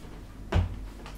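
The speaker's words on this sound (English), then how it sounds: "I have to go close the bathroom door because that is way too loud" A bathroom door in a very old apartment swings shut with a single dull thump, fairly close and brief, followed by a faint shuffle in an otherwise quiet room.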